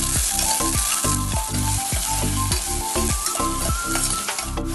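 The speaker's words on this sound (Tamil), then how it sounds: "எண்ணெய் நல்லா காஞ்சதுக்கு அப்புறம் நான் இந்த வெங்காயத்தை போட்டு நல்லா வதக்க ஆரம்பிச்சிடுறேன்" Onions sizzle in hot sesame oil inside a pressure cooker, a dense continuous crackle broken by regular scraping strokes of a stirring spoon, close and alone with no voices.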